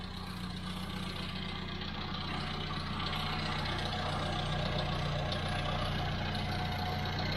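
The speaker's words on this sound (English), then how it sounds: "At the moment, seems to be idling happy just after baselining" A tuned 1100 car engine fitted with SU carburettors idles steadily, giving a faint, even, low hum with a light mechanical rattle and no voices.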